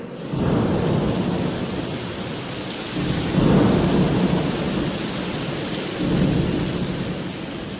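Steady heavy rain with rolling thunder that swells in three waves, loud and close, heard alone without voices as part of a romantic Hindi song.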